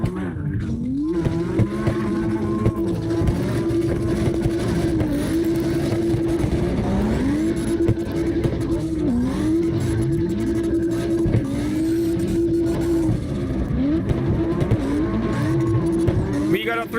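Several cars drift in tandem in CarX Drift Racing Online, their engines droning and pitching up and down steadily in close succession, with a voice talking over the game sound.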